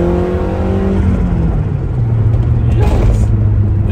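A 1990 Lotus Esprit SE engine drops into second gear while driving on a road, its revs shifting and then rising into a loud, close rumble with continuous road noise.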